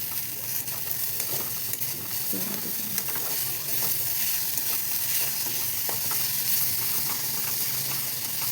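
Flattened rice (chira) frying with sugar in a kadai over low heat gives a steady close sizzle and crackle, with occasional stirring scrapes and no voices.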